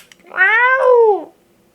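A voice imitates a cat's drawn-out howl, a single rising then falling wail lasting under a second, loud and close, alone against a quiet background.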